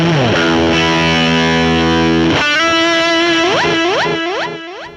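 Electric guitar played through a drive block preset on a Fractal Audio VP4 effects unit, giving a distorted tone: a sustained chord rings out, then a held note repeatedly bent upward in a steady rhythm, loud and close.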